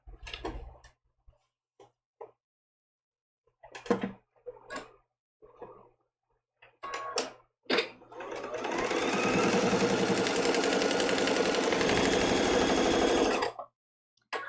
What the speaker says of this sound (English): while I'm sewing this seam